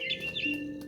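Chirping mama bird in the video game What Remains of Edith Finch, a few bright tweeting calls over a steady hum of game ambience, close and moderately loud.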